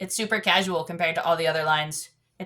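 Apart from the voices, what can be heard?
No everyday noise stands out behind the speech.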